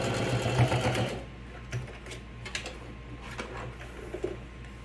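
A sewing machine stitches back and forth through fabric for a toiletry pouch, starting with a loud, steady whirring run, then settling into short, quieter bursts and clicks as the back stitch is worked.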